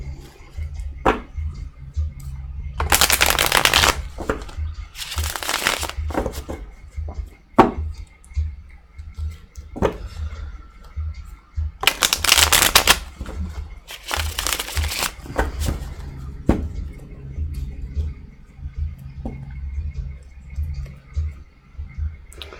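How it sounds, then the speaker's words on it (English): Tarot cards are riffled and shuffled in quick rustling bursts, two pairs separated by a pause, close by over faint background noise. "Let me shuffle again."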